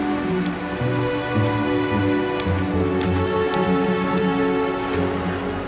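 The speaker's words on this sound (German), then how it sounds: "Regen begleitet Marlene und Mathilda auf ihrer letzten Etappe." Steady rain falls in a narrowing valley of the French Alps near the Mediterranean, with dense, even patter on surfaces and a few louder close drops. It continues unbroken and has no voices.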